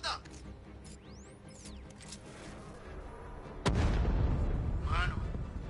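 In Batman Arkham Knight on PS5, a grenade goes off with a sudden heavy boom partway through, followed by a loud, sustained rumble and combat noise, with soft game sounds before it.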